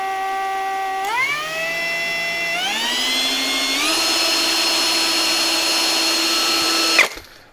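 A KAMOLEE cordless drill and ice auger whines in second gear at minimum speed, its steady motor tone stepping up in pitch a few times before stopping abruptly near the end, loud and close with no talk.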